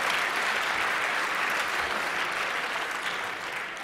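Sustained, dense applause from a conference audience after a talk, a loud, even wash of many hands clapping that tapers slightly toward the end.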